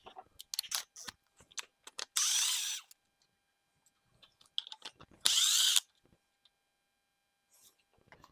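An impact or power tool spins out T30 Torx screws and standpipes on a 6.0 Powerstroke diesel engine during head removal, with two loud, steady whirring bursts about half a second long, set among scattered clicks and clanks of handled parts.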